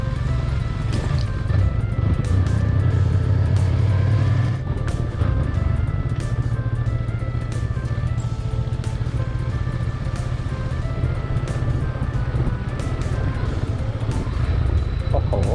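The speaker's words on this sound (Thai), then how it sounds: "มีเอ็นจินเบรกก็ต้องใช้นะครับใช้คู่กับเกียร์ เกียร์ต่ำเวลาลงเขา" Vehicle descending a steep mountain road on the way up to Kloselo from Ban Mae Sam Laep, engine braking in low gear with a loud, steady droning hum and a tonal whine that holds throughout.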